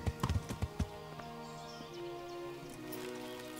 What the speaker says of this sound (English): Just a horse trotting.